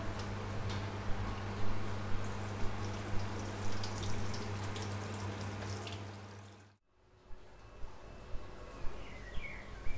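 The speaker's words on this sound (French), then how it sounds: "et les rince à l'eau froide" Cold tap water runs over cooked Korean rice cakes in a kitchen sink, a steady close splashing with small ticks and clinks, cut off abruptly partway through, then a quieter room with faint clicks.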